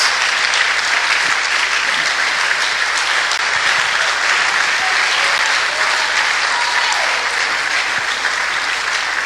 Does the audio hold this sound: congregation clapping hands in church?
yes